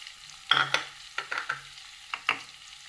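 Grated carrot stir-fried in a pan for paneer fried rice, giving a few short stirring scrapes and soft sizzles in separate bursts, close and fairly quiet with no talking.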